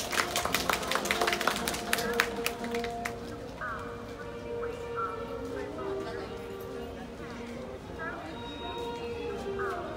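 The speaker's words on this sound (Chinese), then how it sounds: "请各位给予热烈掌声" Crowd applause at the close of a level crossing accident drill during a Taiwan Railways safety exercise at Ruifang Station; scattered clapping is strongest in the first few seconds, then fades into a busy background of voices.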